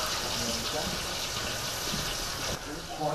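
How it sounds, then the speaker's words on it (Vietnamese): Hot lard sizzles and crackles as cooks ladle it spoonful by spoonful over a whole fish for a traditional fish feast at Tran Temple in Thai Binh, a dense continuous hiss close by. "Bên dưới, lớp mỡ sôi tí tách, những người thợ làm cỗ cá cứ múc từng muôi, rộn đều lên, bắt đầu từ thân cá."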